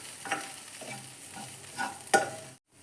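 Coriander and turmeric powder being stirred into a hot pan for cheese noodles, with a few scraping strokes over a soft sizzle and a sharper clatter near the end, close and fairly quiet, without voices.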